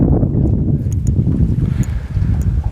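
Strong wind gusting across a lake during a fishing trip, a loud, steady low roar buffeting the microphone close up, with faint higher ticks and no talk.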